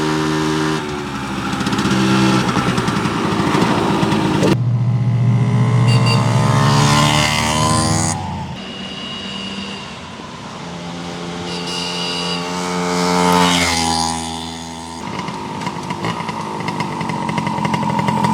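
A 1972 Kawasaki G3SS 90 small motorcycle engine being ridden, loud and close, with buzzing revs that climb and drop through gear changes and a sustained high whine.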